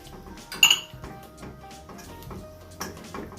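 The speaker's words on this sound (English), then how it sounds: "I have 2 tablespoons of vanilla, 2 tablespoons of melted butter. So I'm going to mix that." Vanilla and melted butter being mixed in a bowl for Jamaican Easter bun batter, giving a few light clinks and scrapes of utensil against the bowl, one sharper clink early on, fairly quiet with no talking.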